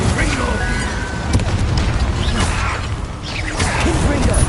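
Blasting-spell explosions in a fantasy wizard action game, heavy booming bursts over a dense, continuous layer of battle noise and whooshes, with a voice calling out spell names over the top.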